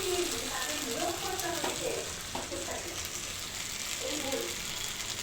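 Meat browning in a pan for a Bengali kosha, a steady bright sizzle and hiss with a few scraping stirs, and a voice speaking briefly in the background.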